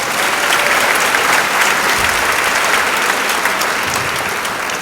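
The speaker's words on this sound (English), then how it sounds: "let's give them another round of applause" Sustained audience applause at a training session for school staff, a full even roar of many hands filling the room for about five seconds.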